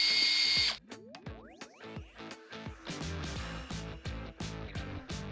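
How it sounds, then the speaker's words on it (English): Ratcheting wrench working the lower rear shock bolt on a Textron Wildcat XX side-by-side, using a 10mm Allen socket and an 18mm wrench: after a short loud burst, steady close clicking pawl strokes in an even rhythm. "we're going to remove the lower shock bolt. Use a 10mm Allen socket or wrench and an 18mm wrench."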